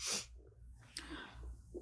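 A single sharp sneeze bursts out at the start, followed by quiet breathing and a brief sniff-like sound.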